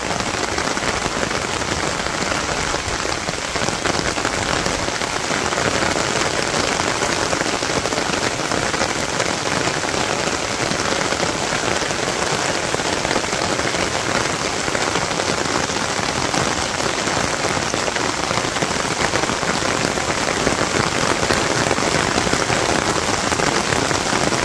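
Continuous rainfall over a village in Bangladesh, a close, unbroken wash of patter on surfaces that holds level throughout, with no talk.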